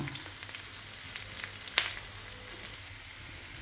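Onion and ginger sautéing in a pan give a continuous close sizzle, with a few light utensil scrapes and one sharp clink, and no talk.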